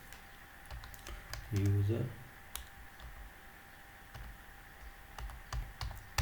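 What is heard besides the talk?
typing code on a computer keyboard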